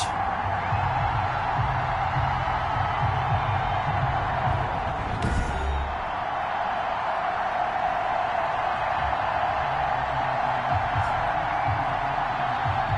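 Sold-out stadium crowd at a Miami Dolphins vs New England Patriots NFL game in an EA Sports football video game, a steady, dense roar of distant cheering that runs unbroken throughout with a brief swell near the middle.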